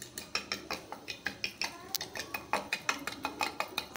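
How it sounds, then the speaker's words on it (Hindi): Spoon stirring milk into a sweet bread batter in a bowl, quick rhythmic scraping clinks repeating steadily and close by, with no talk. "तीन से चार चम्मच इसके अंदर आपने दूध डाल लेना है इस तरह, और फिर आपको आपने इसको अच्छे से इस तरह मिक्स करना है"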